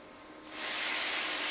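Curry in a hot pan on raised heat gives off a rising hiss that swells after the first half-second into a steady, loud, broadband sizzle with no voices.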